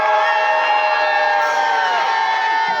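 A crowd at a Slovak harvest festival (hody) shouting together in one loud, sustained cheer with whoops, steady and close for the whole stretch.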